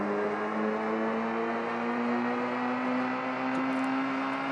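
A car's engine revs steadily in a driving simulation, a sustained whirring drone with a constant pitch that stays loud and even throughout, with no talking.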